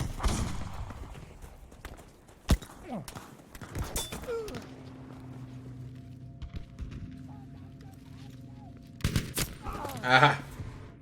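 Rifle fire from an M1 Garand chambered in .30-06 in a WWII battlefield video game, heard as a few sharp, loud shots spread across the clip amid game noise, engine drone and scattered effects.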